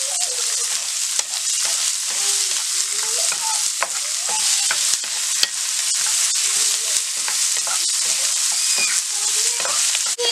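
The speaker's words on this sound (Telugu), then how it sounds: "వేసుకొని ఫ్రై చేసుకోవాలి." Two medium chopped onions fry in a pan while being stirred, giving a loud, continuous close sizzle with scraping spatula strokes and occasional sharp clicks throughout.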